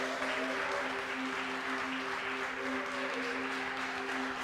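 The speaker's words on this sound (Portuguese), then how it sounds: "E se você crê nisso, aplauda o Cordeiro de Deus" A church congregation applauds during a Portuguese-language worship service, a steady, dense wash of clapping held at an even level throughout, with sustained tones of worship music or keyboard running underneath.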